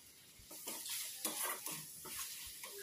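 Masala with raisin paste cooking in a pan for katla fish curry, with a quiet sizzle and soft, repeated stirring scrapes close by.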